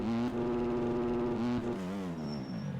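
Motocross bike engine in fourth gear in the MX Bikes video game, a loud continuous high-revving whine that holds pitch, then dips and wavers as the revs shift.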